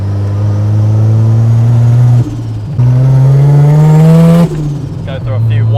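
Mazda RX-7 turbo engine revs hard under load climbing uphill, loud close rising drone with brief dips between gear changes, heard from inside the car.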